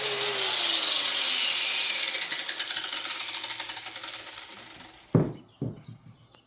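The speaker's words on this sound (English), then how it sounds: "Okay, now we're going to do a little sanding." A power sander works the rough edges of a handmade wooden American flag, a steady broadband whir that fades gradually, followed near the end by two sharp knocks, with no talking.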